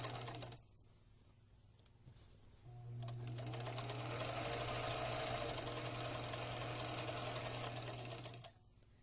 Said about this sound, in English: just sew that straight across all the way to the other end